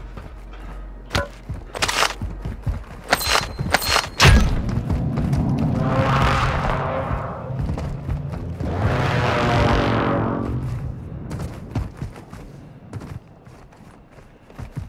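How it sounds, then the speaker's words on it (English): A stun grenade goes off in a war video game amid sharp gunshots and thuds, followed by two long swelling whooshing bursts of noise that fade into scattered shots. "Stun grenade here."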